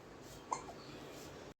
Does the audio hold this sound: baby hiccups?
yes